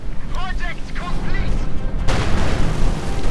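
Mortar rounds exploding in a Company of Heroes 2 match, a heavy booming blast bursting in after a short stretch of talk and rumbling loudly to the end.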